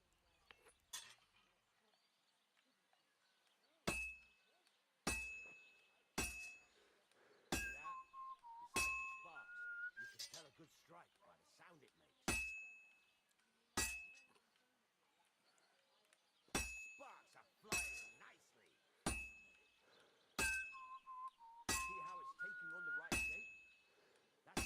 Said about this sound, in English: When I hammer a piece to a beat, the work goes by easier